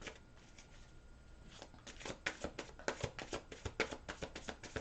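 Angel and tarot cards being shuffled by hand, starting with soft sliding and then breaking into a quick run of crisp riffling flicks, close and moderately loud, with no voices.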